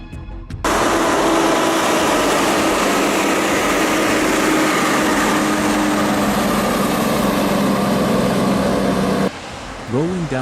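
A heavy tractor truck engine hauling a giant iron bar drones loudly and steadily at close range, starting abruptly and cutting off near the end, followed by a brief rising tone.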